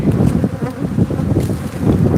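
Africanized killer bees swarm around an opened hive, making a loud, dense, continuous buzz close to the microphone, with a faint touch of wind.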